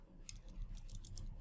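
Keys clatter on a computer keyboard in a quick, uneven burst of typing, close and fairly quiet, with no voice over it.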